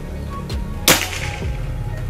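A single sharp crack from a Predator Tactical PCP air rifle snaps out once, close and loud, over a quiet outdoor background with no talking.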